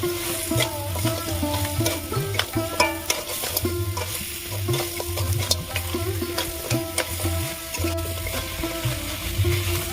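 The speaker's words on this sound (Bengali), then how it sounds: "ভেজে রাখা কাঁকড়াগুলো দিয়ে দেবো একসাথে ভালো করে কষিয়ে নেবো" Crabs that were fried earlier are stirred into a spicy masala in a pan for a Bengali crab curry, giving steady close scraping and stirring over a continuous sizzle with no pauses.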